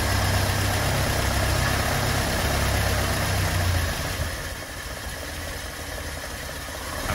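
A Land Rover Series 3 engine runs with no choke after a blip of throttle, a steady, close, loud rumble that eases down to an even idle partway through.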